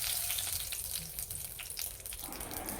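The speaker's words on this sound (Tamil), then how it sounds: "இப்போ கடுகு பொரிஞ்சிருச்சு" Steady crackling and popping of mustard seeds spluttering in hot oil, a continuous close sizzle with scattered sharp spits throughout.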